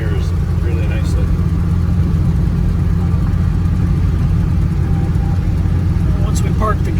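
A 1933 Cadillac V12 Town Coupe runs steadily as it shifts smoothly through the gears, a loud continuous low engine rumble close by, with people talking over it.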